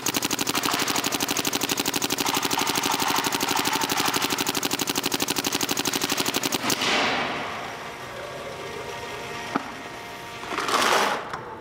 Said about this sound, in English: So we're just gonna rail on this gun, try to shoot as much paint as possible.